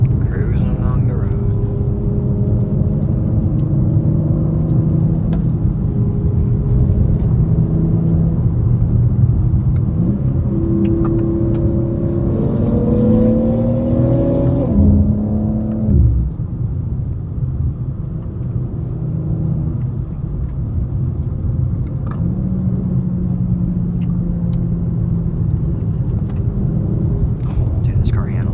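A BMW G82 M4 on a mountain road, its engine note rising and falling through steady rumbling revs with a loud, continuous drone under occasional talk.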